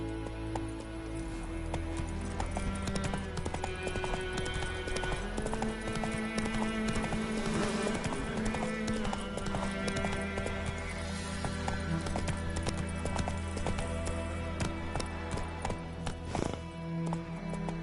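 Geralt's horse Roach gallops in The Witcher 3, a rapid, steady clip-clop of hooves close by over a low game music bed.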